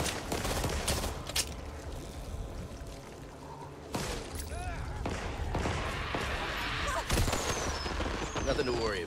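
Bursts of gunfire and chaotic combat noise from the Back 4 Blood video game, with rapid shots layered over a dense, busy game soundscape that has intermittent voices.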